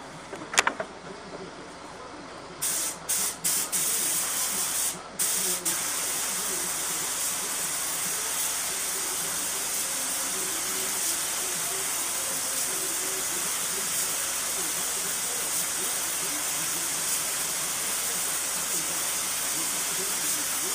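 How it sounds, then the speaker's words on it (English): A steady, continuous aerosol spray of adhesion promoter onto ABS plastic hisses for a long stretch after a few short bursts, loud and close, with no talking. "Now we will begin to spray the adhesion powder."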